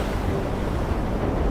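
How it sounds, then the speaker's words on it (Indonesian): Crashing sea waves and gusting wind beat against a boat in a stormy sound effect, heard as a steady, loud wash of surf with no speech over it. "Gelombang air itu semakin tinggi menghantam perahu mereka."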